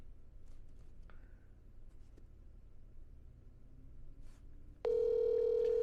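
A telephone dial tone sounds while a dropped conference call is redialed. It starts abruptly after a few seconds of faint room noise and sparse small clicks, then holds as a loud steady tone.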